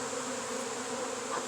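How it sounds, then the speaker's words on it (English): A dense swarm of bees hums continuously and loudly, a thick unbroken buzz from many insects near a full hive. "has to be coming from a full hive somewhere to have this many bees."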